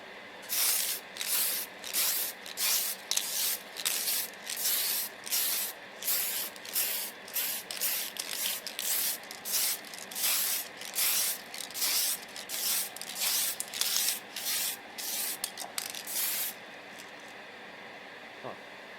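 A nearly empty spray can sputters a flat top coat onto a 1:72 Italeri SR-71 Blackbird plastic model kit, giving a rhythmic series of short, close hissing bursts with gaps, then fading to quiet.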